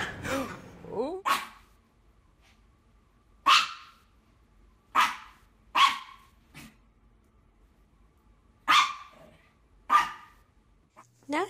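Small dogs bark in short, sharp bursts with pauses between, about eight loud barks close by, with a faint growl at the start; no talking over it.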